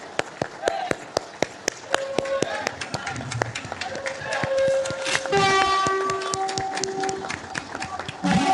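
Trains flagged off at an inaugural ceremony in India, with a long sustained train horn over rumbling rail noise, rhythmic clacks and a crowd.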